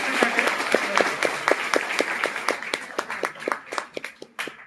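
Audience at a leadership-development lecture at a Raver college breaks into applause, a dense burst of many hands clapping that thins toward the end into scattered, more distinct claps.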